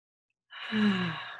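A single deep, slow breath is drawn in during a guided breathing exercise, rising out of silence into a soft, airy rush that swells and lingers close to the microphone.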